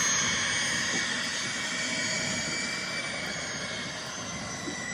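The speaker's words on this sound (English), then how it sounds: "And another jet about to take off." A jet airplane roars near an airport in New Orleans as it prepares to take off, a loud, steady broadband engine rumble with a high whine, heard outdoors from a dockside fishing spot with no talk.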